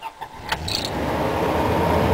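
A truck engine, unused for four days, cranks briefly and catches, then settles into a loud, steady rumbling idle close by, with no voices.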